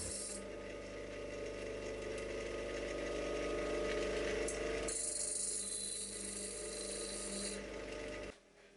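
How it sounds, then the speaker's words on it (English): Spring washers having their sharp locking edges ground off in a workshop, a steady loud abrasive grinding and rasping that runs almost continuously, shifting in pitch partway through, then drops away abruptly near the end. "The sharp edges are normally used for locking screws and are useless here,"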